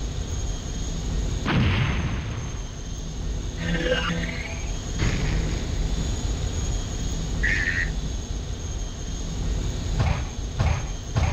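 Rockets and missiles fire in the futuristic racing game Wipeout 64, heard as several sharp whooshing bursts and blasts over a constant engine-like drone, with a couple of quick hits near the end.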